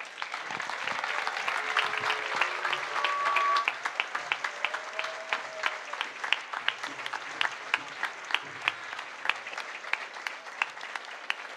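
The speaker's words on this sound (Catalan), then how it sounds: "Un fort aplaudiment per al senyor Salvador Alegria Vitalla" Festival crowd applause for the town festival speaker at Móra la Nova's Festa Major, a dense steady wash of clapping that gradually thins into more separate, rhythmic claps.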